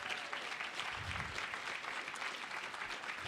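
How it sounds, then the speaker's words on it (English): Audience at an awards and pitch event applauding, a dense, steady wash of clapping heard from some distance for several seconds. "So let's give them a round of applause."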